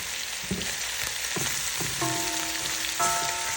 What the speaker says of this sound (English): When you put the meat in the pot, leave it alone for a little bit